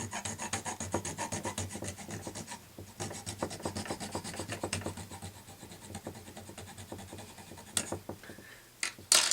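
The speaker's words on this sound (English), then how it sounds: "you could actually cut it away with the saw" A hand saw cuts through a wooden caprail piece held in a vise, making repeated rasping back-and-forth strokes that fade slightly toward the end, followed by a few sharp knocks.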